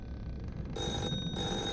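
An old-style telephone bell rings loudly and continuously in the horror game The Floor Is Breathing, a harsh trilling jangle over a dull, droning background with no talking.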